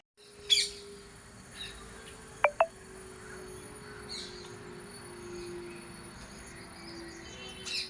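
A small bird chirps a few times outdoors in the snow, brief faint calls with a couple of sharp close chirps in the middle over a quiet, steady background.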